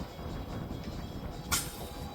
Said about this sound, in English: sorry if the fan noise is disturbing you guys